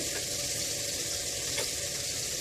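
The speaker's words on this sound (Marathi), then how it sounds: "आता ह्या खरब्या आपण चार ते पाच मिनटं मीडियम गॅसवर फ्राय करून घेऊया" Kharbya fish fry in a pan over a medium gas flame, Agri style, giving a steady, close, dense sizzle of hot oil with a faint brief clink near the end and no voices.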